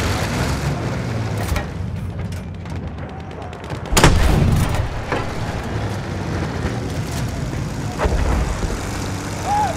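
Battlefield 1 battle soundscape with gunfire under a steady roar of aircraft and engines, with a sharp loud blast near four seconds and another near eight, as the machine gun fire keeps going throughout.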